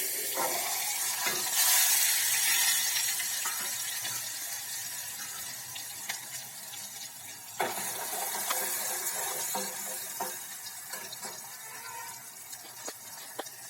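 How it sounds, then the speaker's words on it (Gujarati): Chopped tomatoes and chillies drop into hot oil seasoned with asafoetida for a spinach dish, setting off a steady sizzle with scraping and clinking from stirring throughout, and no talking. "તેની અંદર આપણે ટામેટાં અને મરચાંનું જે કટિંગ કરેલું છે તે પણ હવે ઉમેરી દઈએ."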